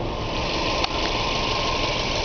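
A 2009 Subaru Impreza's 2.5-liter boxer engine idles steadily and close by, with a low, even rumble throughout.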